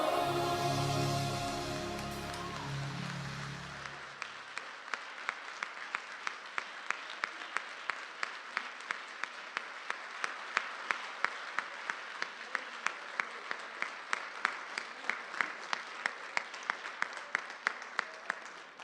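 After a short burst of voices, a Baptist church congregation claps after a musical performance, a thin, fairly quiet patter of hands with a few sharper individual claps standing out.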